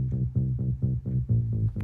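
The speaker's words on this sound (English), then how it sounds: "I have everything above 200 hertz cut off. You don't need it, so it just sounds like this." House music sub-bass line with everything above 200 Hz cut away: a run of about seven deep, muffled bass pulses in a steady groove, low and soft with no higher tones.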